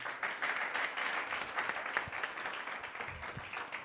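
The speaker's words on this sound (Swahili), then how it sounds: "tumpigie kwanza makofi" Applause from a gathered crowd for a team's head coach at a Black Lion Day event in Denver, Colorado: moderately loud, steady clapping from many hands, with scattered sharper individual claps standing out.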